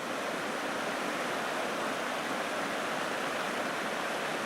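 A strong river current during a Siberian expedition around Lake Baikal, where the water runs about a metre deep: a steady, loud, unbroken wash of rushing water fills the whole stretch with no voices.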